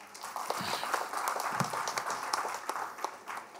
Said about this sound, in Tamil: இதுக்காகவே மிகப்பெரிய கைத்தட்டு தாங்க நீங்கள்